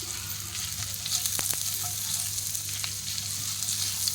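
Chopped garlic fries in hot butter with a busy, even sizzle and a few sharp crackles over a low steady hum.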